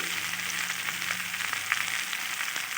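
Chopped tomato sizzles in a pan with onion greens for a chapila fish stir-fry, giving a steady, close frying crackle with small pops and faint stirring.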